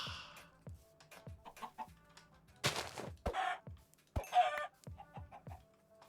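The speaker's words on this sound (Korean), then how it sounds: "닭이다" Chickens cluck in a Minecraft game world, a run of short, repeated clucks with brief louder bursts of game sounds between them.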